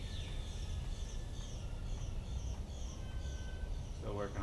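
Birds singing outdoors in spring, a repeated chirping call at moderate distance over a steady low rumble of background noise, with a brief voice near the end.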